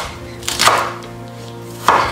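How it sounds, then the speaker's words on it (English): A knife roughly chopping banana shallots on a cutting board, two distinct close chops spaced more than a second apart over a low steady kitchen hum, with no talk. "So I have used 2 banana shallots here, and I'm just roughly chopping them up."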